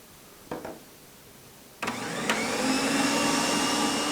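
An electric mixer fitted with wire whisks beats sugar and eggs for butterkoek. A couple of faint clicks come first, then the motor starts and runs as a loud, steady whir with no talking.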